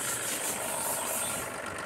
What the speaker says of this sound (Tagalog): So ngayon ay kita natin na tumituyok na talaga yung yung engine.